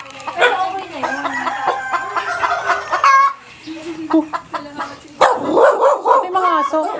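Dogs barking and chickens clucking and a rooster crowing on an egg farm, a busy mix of close animal calls in bursts, with a person talking over them.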